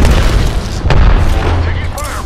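Grenade explosion in a shooter video game, a loud close boom with a rumbling low tail, heard amid dense game noise and a brief voice.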